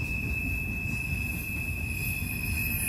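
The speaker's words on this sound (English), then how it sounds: "Tonight's train had a few trailer and flat cars" A freight train carrying trailers and flat cars rolls past at night in a steady, continuous low rumble, with a high, thin wheel squeal held throughout and no voices.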